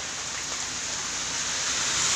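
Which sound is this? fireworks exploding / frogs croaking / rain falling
rain falling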